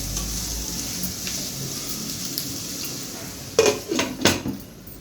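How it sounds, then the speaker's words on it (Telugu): A metal lid is set down on a pan of large onion pieces softening for egg pulusu, giving a few clattering clanks near the end over a steady low sizzle. "ఒక 2 నిమిషాలు మూత పెట్టేసి మగ్గనిద్దాము."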